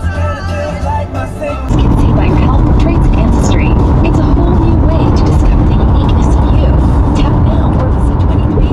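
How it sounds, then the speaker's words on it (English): Road traffic heard from inside a vehicle on a road trip, a steady broadband engine and tire rumble that swells louder after a brief quieter moment, continuous and close. "and we're in traffic again."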